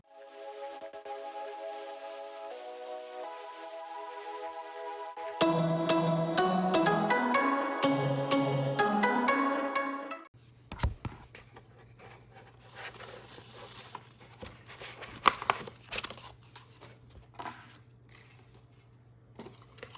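A Cricut Joy cutting machine works on an infusible ink sheet, first giving a short run of tonal beeps and chimes, then a quiet, steady motor hum with light ticks and clicks. No voices are present.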